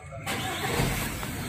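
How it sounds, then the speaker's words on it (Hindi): A Jeep Compass engine cranks and catches after a wiring repair, then settles straight into a steady, close running hum. "गाड़ी को स्टार्ट करता हूँ"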